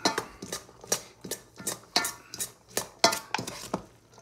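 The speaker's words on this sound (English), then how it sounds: "I'll take a spoon, a large spoon, and go ahead and just mix up the oil in it first" A large spoon mixes oil through sliced slaw vegetables in a bowl, making a steady run of about a dozen rhythmic clinks and scrapes against the dish at close range.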